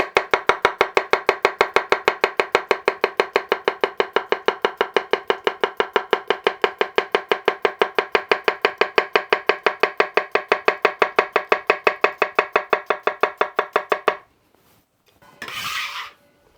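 A bunka knife taps rapidly on a cutting board, chopping cucumber in a fast, even run of crisp close clicks for about fourteen seconds, then stops, leaving a brief rustle.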